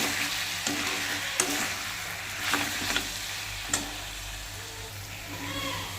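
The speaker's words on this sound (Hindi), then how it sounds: "सबसे पहले हम इसमें ये अदरक लहसुन का पेस्ट डालेंगे और इसमें आग थोड़ा सा लो फ्लेम में डालेंगे।" Ginger garlic paste frying in a pan over a low flame, a soft continuous sizzle broken by a few light stirring scrapes and clicks, close and fairly quiet, with no one talking.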